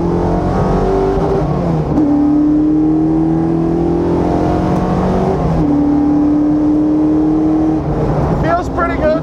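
A championship-winning 2002 Mustang Cobra Grand Am race car accelerates hard on track, its loud, close engine note climbing steadily in pitch through repeated upshifts.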